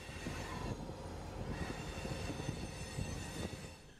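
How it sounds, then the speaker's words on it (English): A BNSF southbound coal train rolls past on the Fort Scott subdivision at Nichols Junction in Springfield, Missouri, a continuous rumble of heavy railcars with rhythmic wheel clicks and occasional squealing wheels, fairly close and steady throughout. "Our first train is the southbound coal drag rolling off the Fort Scott sub."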